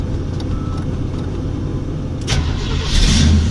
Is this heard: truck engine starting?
yes